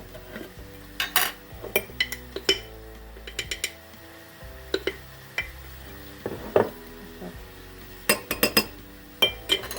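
A spoon scrapes and clinks against a bowl while mixing ingredients including starch for a zucchini dish, with irregular taps and clatters throughout, close up and fairly loud.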